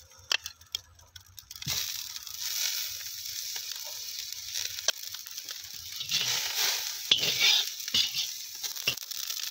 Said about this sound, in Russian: Казан прогрелся, добавляем кусочек масла.